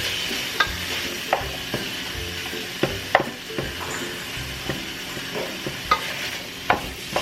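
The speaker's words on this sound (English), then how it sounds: "I'm gonna saute that." Onions sauté in a hot pan for a pork monggo and salmon dish, a continuous close sizzle broken by regular scraping stirs roughly every half second to second.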